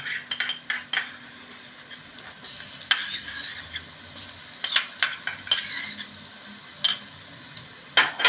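Onion browning in a pan with a spoonful of ginger-garlic paste, stirred with a metal spoon: steady soft sizzle under repeated sharp scrapes and clinks of utensil against the pan, close by.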